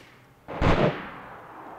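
A single gunshot in the survival video game DayZ, heard at a military base: a sudden loud crack that decays into a brief rumbling tail, standing alone without any talk over it.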